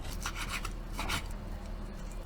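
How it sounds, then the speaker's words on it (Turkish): A knife slices beef into thin matchstick strips, giving repeated rasping strokes against the meat and board, close and soft with a low background hum and no talking. "bu şekilde ince kibrit gibi etler doğrayacağız."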